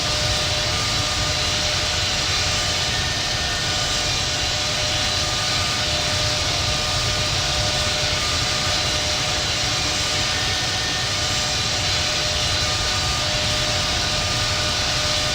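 Boeing 777-200 jet engines roar steadily at takeoff power in an Infinite Flight simulation on a runway departure from Los Angeles, a loud continuous broadband rush with a faint high whine, no voices.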